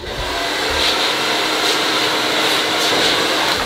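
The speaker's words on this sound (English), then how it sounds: "For this part, you're gonna need a blow dryer and a comb." A hair blow dryer running continuously at close range, a loud steady airy whoosh with a constant motor hum and no breaks.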